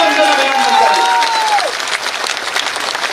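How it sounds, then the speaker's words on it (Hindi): A loud, dense burst of crowd clapping welcoming the chief guest, Home Minister Narottam Mishra, at a large public rally in Semariya, steady throughout with a voice tone sliding briefly over it. "सिमरिया वाली ताली बजाकर इनका जोरदार स्वागत"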